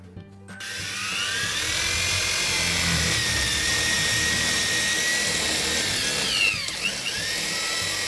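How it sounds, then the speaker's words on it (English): Power drill boring holes into a wall with a 10mm bit for mounting, a sustained close, loud whine with a low rumbling grind, running continuously before winding down near the end. "I'm gonna start drilling right now and show you how to do it"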